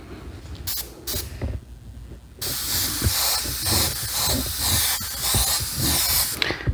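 An airbrush gun sprays paint over a carbon-fiber pattern template, giving a few short hissing bursts and then a loud, steady, close hiss that runs to the end.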